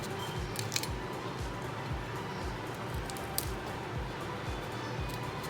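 A knife cutting broccoli florets from the stem, giving a rapid, regular series of soft crunching slices over a steady background hum, close and fairly quiet, with no talking.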